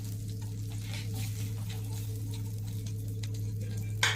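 Whole garam masala spices, cinnamon, cloves, cardamom and star anise, stirred in hot oil in a pan, giving a steady soft sizzle with light scraping and a brief clink at the end.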